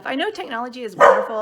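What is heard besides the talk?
dog Chili barking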